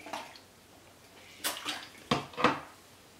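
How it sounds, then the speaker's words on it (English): Someone drinks water in a quiet room: a few distinct gulps and sips with small liquid sounds, spaced irregularly across a short moment, close and fairly soft, with no talking. "I want to drink water first."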